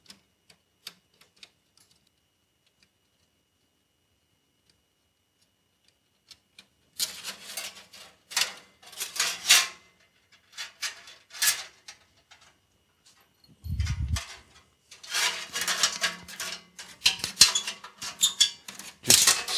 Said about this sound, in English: 7/16 wrench loosens up the bands.